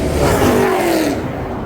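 Revving engine of a modified 2015 BMW Z4 race car with a stock M54 engine and a Pulsar 6466 turbo, a loud, close, sustained roar with a rising then falling pitch.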